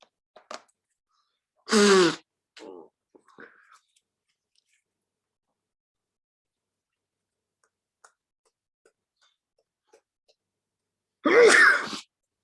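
Two sharp sneezes, one early and one near the end, separated by a long near-silent stretch with a few faint clicks and brief sounds.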